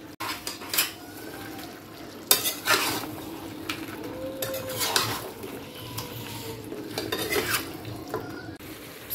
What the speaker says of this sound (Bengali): এবার আমি এইটা পুরো মশলাটা দিয়ে দেবো, দিয়ে আবারও ভালো করে কষাবো